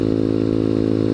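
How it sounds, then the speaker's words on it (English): A Honda Grom motorcycle cruising at about 45 mph gives a steady, loud engine drone with a buzzy harmonic hum, unbroken across a short stretch of riding. "this bike could do 80 miles an hour, but I'm doing 45, you know, and I'm enjoying the ride"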